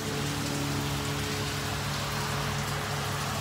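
Steady rain falling outdoors, a dense unbroken hiss of drops striking surfaces, loud and constant with no voices.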